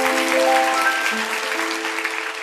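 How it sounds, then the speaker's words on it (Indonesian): A congregation claps in a church during a sermon, a dense wash of applause with sustained musical tones ringing beneath it, gradually thinning toward the end. "Kasih tepuk tangan untuk Tuhan."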